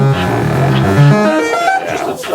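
Modular synthesizer sample-and-hold signal going into a filter, a steady stream of stepped, randomly shifting pitched tones at moderate loudness, with no talking.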